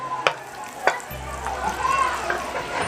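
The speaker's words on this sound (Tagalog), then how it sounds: "Lagyan na natin yung butter. Ayan. Tunawin natin yung butter na." Butter melting in a hot pan, a soft sizzle that starts after two sharp clacks of utensils against the pan, close and fairly quiet with light stirring sounds.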